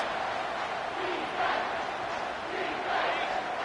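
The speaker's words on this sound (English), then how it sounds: "Here comes this home crowd as the defense tries to get off the field on 3rd down." A home crowd roars at a football game as the defense tries to get off the field on third down, a dense, steady wall of cheering with two swelling peaks and no speech.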